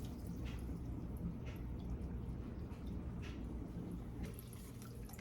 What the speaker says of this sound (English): Just let some of that water drain.